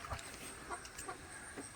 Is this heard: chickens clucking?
yes